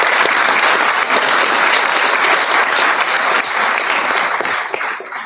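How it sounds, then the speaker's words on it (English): Loud, dense applause from an audience at a school arts and academic awards ceremony, sustained throughout and tapering slightly at the end. "Another round of applause for Joseph."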